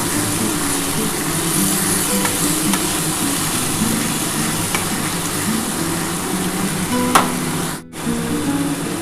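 Banana flower and potatoes fry with ground spice paste in a pan for a vegetarian curry, giving a steady close sizzle with faint stirring scrapes and a brief clunk near the end.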